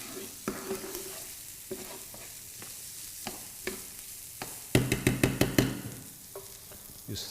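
Paella rice frying in oil with stock nearby and being stirred in a pan with chorizo, sofrito, artichokes and baby squid: steady sizzle broken by repeated scraping stir strokes, a dense burst of quick scrapes midway, no talk.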